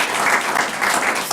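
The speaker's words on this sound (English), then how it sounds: "we could hang on to our applause just so we can kind of keep moving along" Applause breaks out at a planning commission meeting, a close, continuous patter of clapping from the attendees that rises and falls slightly in waves, with no speech over it.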